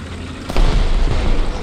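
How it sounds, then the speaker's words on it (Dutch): A loud explosion in a video game bursts in abruptly after a brief lead-in, then a heavy low rumble lingers and fades slowly while players talk excitedly over it. "Zo dat ding ontploft"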